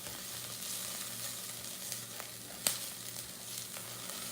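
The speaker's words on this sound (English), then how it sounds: "let's stir this one more time" A pot of broccoli nacho cheese and potato soup simmers and sizzles softly with a steady bubbling hiss, and one sharp scrape or clink of the stirring spoon against the pot stands out near the end.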